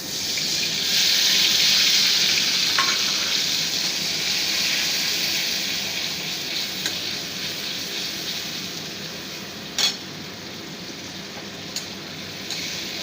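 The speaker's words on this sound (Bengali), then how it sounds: "একটু কালো জিরে ফোড়ন দেবো, দিয়ে মশলাটা ঢেলে দেবো।" Spice paste poured into hot oil with nigella seeds for a Bengali boal fish curry, giving a steady loud hiss and sizzle that eases slightly over time, with a few faint clinks.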